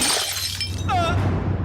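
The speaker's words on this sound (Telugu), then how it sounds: "బాబాజీ మన ఆఫీస్ ఏదో బల్బ్ పేలినట్టుంది" A glass light bulb bursts indoors in an office with a sharp shattering crack followed by a brief tinkling fall of fragments, fairly close and alone.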